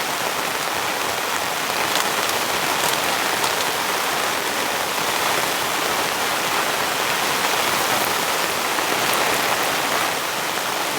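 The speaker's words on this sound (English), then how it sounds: "There's a lot of rain coming in." Heavy rain pours down on a campsite during an incoming rainstorm, a loud, dense, unbroken roar of drops with occasional sharper splatters, steady throughout with no voices.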